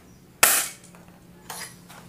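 D'Cobra M802 spring-powered airsoft sniper rifle firing a 0.2 g 6 mm BB through a chronograph: one sharp, loud close crack with a bright snap, then a softer secondary click about a second later.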